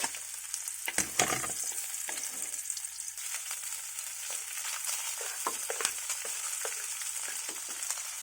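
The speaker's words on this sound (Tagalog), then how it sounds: "sasangag muna natin ang ating bawang at sibuyas" Garlic and onions frying for Filipino garlic fried rice, a bright, constant crackling sizzle up close, with a burst of stirring early on and scattered light scrapes afterward.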